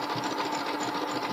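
A sewing machine runs steadily, stitching elastic fold-over trim on a bralette while the fabric is gently stretched, giving a continuous close motor hum with fine rapid needle clatter and no voices.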